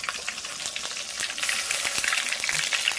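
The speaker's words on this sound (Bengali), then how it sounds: "দেখো জিরেটা ভাজা ভাজা হয়ে গেছে, দিয়ে দেবো আদা বাটা" Cumin seeds and ginger paste fry in a pan for a vegetable khichuri, giving a steady, close sizzle with crackling pops. The hiss grows louder and denser halfway through, and no one speaks.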